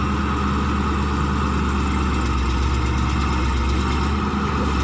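A CAT 320 excavator digging a side channel runs its diesel engine loud and close, a continuous, even drone with no breaks and no voices.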